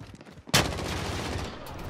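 A single loud gunshot cracks in a multiplayer video game, followed by a steady wash of background battle noise.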